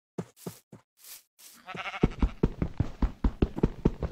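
Sheep bleat in the Minecraft video game, several short cries at first, then a longer run of rapid, evenly pulsed bleats that grows louder and nearer, with no talk over them.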